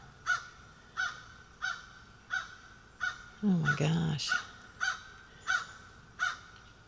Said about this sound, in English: those are some noisy birds